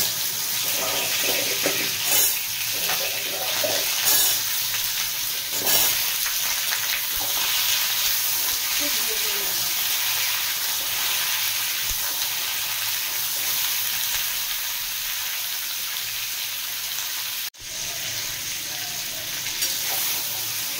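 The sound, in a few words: hog plums (amra) frying in oil for chutney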